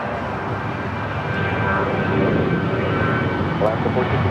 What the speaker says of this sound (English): The first of two Alaska 737-800s heading to Seattle,